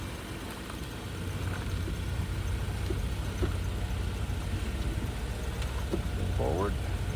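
A 2003 Pontiac Grand Am idles steadily at close range with a low, even engine hum, and faint clunks mark the car being put in gear, backed and moved forward.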